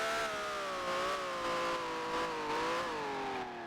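A Ferrari 1512 engine revs in Grand Prix Legends, a high, tonal whine that climbs and dips repeatedly through gear changes and stays steady and prominent, with no talk.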